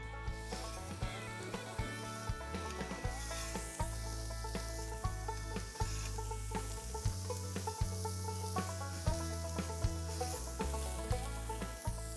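Smoked burgers sizzling on a grilling grate set in a smoker's firebox, a steady close crackle with light scraping and tapping, under a continuous bed of background music.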